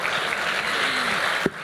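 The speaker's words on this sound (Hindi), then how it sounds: "तालियां" Audience applause during a Hindi-language interview with actor Pulkit Samrat, a steady wash of clapping filling the whole moment at even loudness, with a brief voice near the end.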